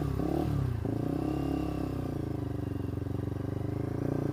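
A Lexmoto LXR 125 motorcycle engine drones while riding, a steady buzzing mid-pitched note that shifts slightly as the revs settle, close and continuous with no talking.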